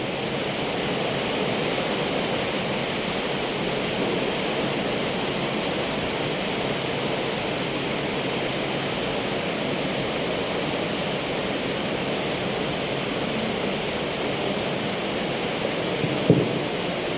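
Heavy rain roars steadily through the whole stretch, a dense, even wash of noise during an outdoor gathering in Thrissur, with one brief knock near the end and no talking.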